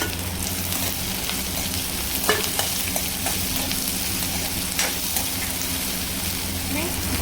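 Chopped green chilies fry in oil for ridge gourd sabzi, making a steady close sizzle broken by light taps and scrapes of stirring.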